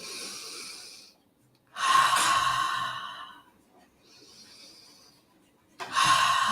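Slow, deep breaths during a guided breathing exercise, close to the microphone: a loud inhale, a long exhale, a softer breath, then another strong inhale, with short silent pauses between them and no talking.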